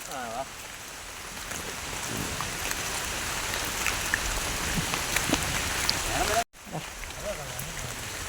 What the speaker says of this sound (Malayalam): മഴ പെയ്തുകൊണ്ടിരിക്കുകയാണ്